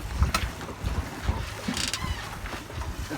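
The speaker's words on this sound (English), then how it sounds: "We're just out on a sailboat that we rented" A rented sailboat out on the water in wind, with steady hiss of wind across the microphone and soft water wash around the hull, faint and continuous throughout.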